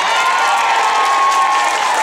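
Guests at a 25th birthday party applaud, a bright continuous burst of clapping mixed with crowd noise and a few cheers, loud and steady throughout.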